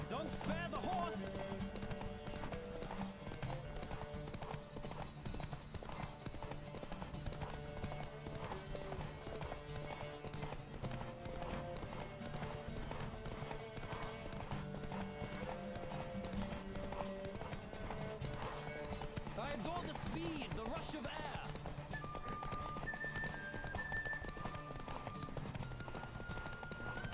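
Horse hooves clip-clop at a steady gallop in the video game The Witcher 3: Wild Hunt, a continuous rhythmic beat under game music, with a brief whinny toward the end.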